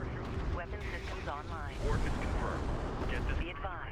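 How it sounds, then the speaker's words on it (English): A cruise missile strike in the real-time strategy game Deserts of Kharak lands as a low, rolling artillery-like boom under continuous excited commentary. "Ooh, cruise missile!"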